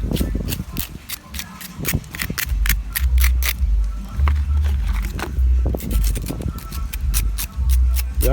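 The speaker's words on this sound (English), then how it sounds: "we scrape off a little bit of the salt" Salt being scraped off roasted saltfish with a blade, a run of quick dry scratchy strokes in an uneven rhythm, heard up close beneath a low background rumble and bits of nearby voices.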